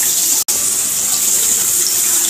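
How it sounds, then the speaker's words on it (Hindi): Water pours steadily and loudly into a pan of cooking fish curry (climbing perch in a desi-style jhol), a continuous hissing splash with one instant break near the start. "तो अब मैं ऐड कर रही हूँ और भी पानी"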